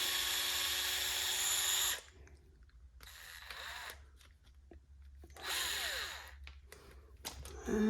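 A small DeWalt electric screwdriver backs screws out of the skid on an RC rock crawler. It gives short, whirring bursts, two loud runs and a fainter middle one, separated by quiet pauses.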